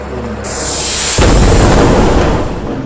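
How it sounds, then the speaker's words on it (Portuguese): An explosion goes off in the flight video game Lonely Ace, a sudden loud burst that swells into a heavy rumbling roar and holds for more than a second, preceded by a rising hiss. "Encostar nele aqui pra ver se explode."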